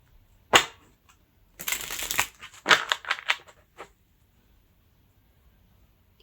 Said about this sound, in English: I wasn't supposed to shuffle these cards just yet.